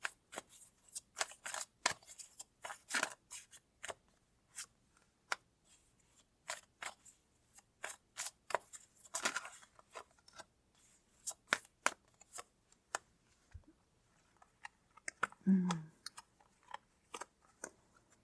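Tarot cards being pulled and shuffled by hand, close and quiet, a series of crisp riffling and snapping bursts in irregular clusters, with a brief low thump near the end.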